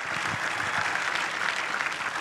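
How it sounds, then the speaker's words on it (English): An audience at the Detroit Auto Show launch of the seventh-generation Ford Mustang gives a dense, continuous round of applause. The clapping is steady and fairly close, filling the whole two seconds without voices. "Round of applause again."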